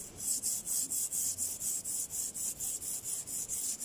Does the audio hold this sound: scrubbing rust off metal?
yes